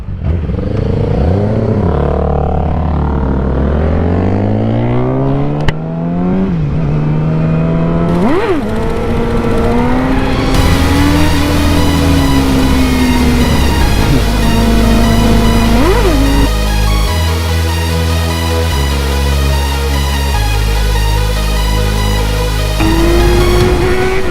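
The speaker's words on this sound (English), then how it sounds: "Wheelies are never gonna get old." Yamaha R6 motorcycle engine revving hard through repeated accelerations during wheelies on an open road, loud and close, rising and falling in pitch across shifts for the whole stretch.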